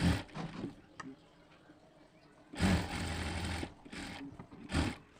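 A sewing machine runs in several short bursts as it stitches a seam across fabric flowers, a whirring mechanical hum between quieter pauses.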